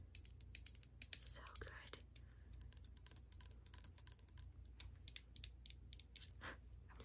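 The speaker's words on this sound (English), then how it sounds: "I love the sound of the tapping on this plastic thingy" Fingertips tap rapidly and irregularly on a plastic Halloween trinket, giving close, crisp clicks in quick bursts, with a soft spoken voice briefly heard.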